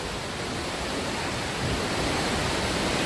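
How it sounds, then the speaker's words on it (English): A rushing mountain river on the Porters Creek Trail in the Great Smoky Mountains pours out a steady, dense broadband roar, heard from a bridge close above, loud and unbroken with no voices. "Beautiful rushing river."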